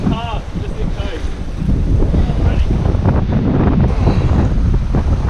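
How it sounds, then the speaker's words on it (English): Strong wind buffets the microphone on a fishing trip outdoors, a loud continuous rumbling roar with water-like wash, while a voice talks briefly underneath. "That wind is helping a lot up here."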